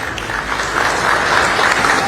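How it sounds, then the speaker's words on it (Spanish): Audience applauds President Bukele at the close of a press event in Costa Rica, a dense, steady wash of clapping that swells slightly and holds loud for about two seconds. "Un aplauso para el señor Bukele, por favor."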